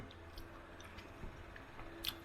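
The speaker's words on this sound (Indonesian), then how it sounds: "Jadi crunchy, ada kriuk-kriuk dari wortelnya, pas banget." Someone chews a crunchy chicken meatball with carrot and wood ear mushroom, a faint, close series of soft squishy bites and small crunches over a couple of seconds.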